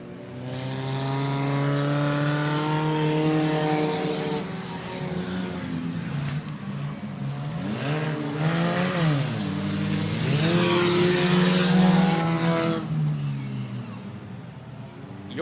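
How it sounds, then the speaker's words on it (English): Race car engines roar down the backstretch at Kalamazoo Speedway during a holiday enduro, with the number 86 car charging along. The loud, continuous engine tones rise and fall in pitch as cars accelerate and pass. "Donnie Ritter is still plugging along strong in that number 86 car as he goes charging down the backstretch"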